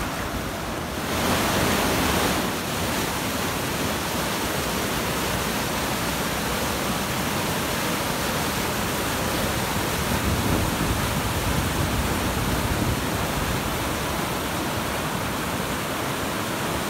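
Floodwater rushing into the Jati dam reservoir in Ceará, a steady, loud, broadband roar that continues unbroken without any voices.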